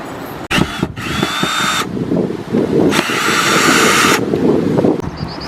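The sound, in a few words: power drill removing bolts from RV water heater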